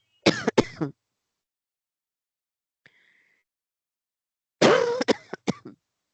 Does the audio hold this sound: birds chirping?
no